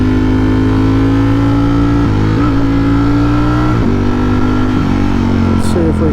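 A 2021 Ducati Streetfighter V4S superbike engine roaring loud and close while riding, with a steady high rumble and several brief dips and surges as the revs shift. Engine noise fills everything.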